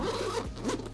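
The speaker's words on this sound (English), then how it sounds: "So you can actually unzip the entire bag using these zippers." The zipper on a Peak Design Everyday Backpack Zip 15L is drawn open in one steady, continuous close-up rasp that runs for about a second.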